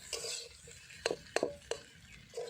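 Utensil scrapes and clinks against a pan of egg and onion stalks, a few sharp strokes at an irregular pace, fairly quiet and close with no talking.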